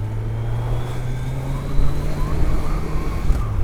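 A Honda Blackbird's big-bore inline-four motorcycle engine drones at high RPM, a steady loud tone with a rising surge of revs partway through, heard from on the bike.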